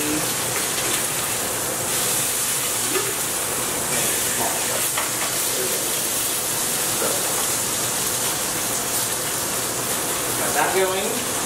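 Food fries in a hot pan, giving a loud, steady sizzling hiss that runs throughout. Voices can be heard under the sizzle.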